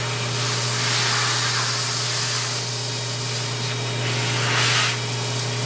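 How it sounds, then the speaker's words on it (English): A shop vacuum sucks up machining chips from a lathe, a steady close hiss and whoosh over a constant low motor hum, with brief swells as debris is drawn in. "It's better to vacuum than it is to blow"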